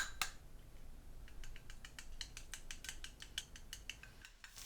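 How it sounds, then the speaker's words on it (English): Eggs beaten with a utensil in a bowl for dumpling filling, a quick run of light, rhythmic clicking taps close by, quiet and fairly steady, with one sharper knock at the start. "Crack 2 eggs and then beat them"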